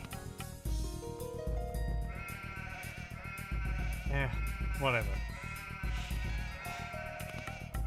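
Sheep bleat in Age of Empires II: The Conquerors, several wavering calls rising over steady game music while a voice talks over them.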